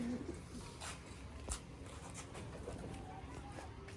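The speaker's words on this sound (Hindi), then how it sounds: "वो कबूतर आपको दिखाने लगे हैं जी" Teddy pigeons kept on a rooftop loft cooing softly, low repeated coos mixed with faint rustling and scattered background noise, fairly quiet and close.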